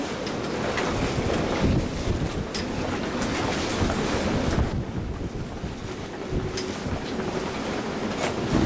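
Boat rocking in the Town Creek Marina at Beaufort, North Carolina at night: steady wind rush and water slosh against the hull, with occasional knocks and creaks, loud and constant, no voices.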